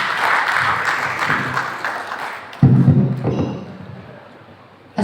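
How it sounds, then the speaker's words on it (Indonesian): An audience at a HIPMI Papua business forum closing ceremony applauds in a dense wash of clapping that fades gradually, with a brief louder burst midway before it dies down. "Kita berikan tepuk tangan kembali."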